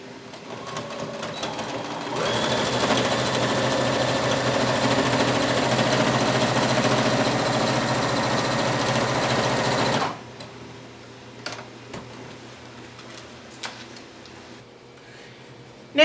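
A sewing machine stitches Kunin felt for a clutch purse in a steady, fast whirring run of about eight seconds, close and even, then stops, leaving quiet handling noises and small clicks.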